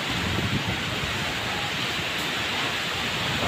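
Ocean waves churn during a strong storm, giving a constant, loud broadband roar like heavy surf and spray that stays even throughout, with no voices.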